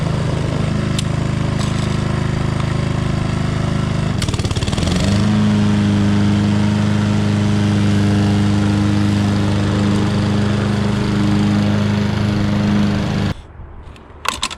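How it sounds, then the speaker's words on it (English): Engine of a new 2020 Honda HRN216VYU self-propelled lawn mower running loud and steady, its revs rising sharply to a higher sustained drone before cutting back near the end. "Push the button, then pull. And you'll hear the revs go right up."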